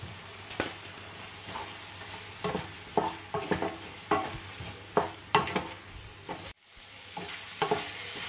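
Spice paste fries in a pan with salted prawns as a utensil scrapes and stirs in rhythmic strokes over a steady sizzle, close and fairly quiet, and no one speaks.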